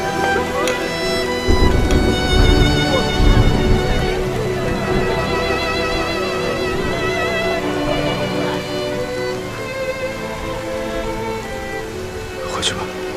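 Rain falling steadily with low rumbles like distant thunder at an outdoor setting in a period drama, with music playing and people talking over it.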